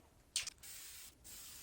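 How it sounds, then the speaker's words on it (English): A Tamiya spray lacquer can sprays light blue paint onto a scale model. There is one short, sharp hiss burst, then quiet, then a softer, longer spray starting near the end. "Painting the light blue on our model will use up a full 2 cans of the Tamiya spray lacquer."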